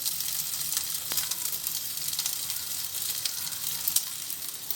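Köfte çöreği buns frying in a pan give a steady, quiet sizzle with fine crackles throughout, and no one speaks.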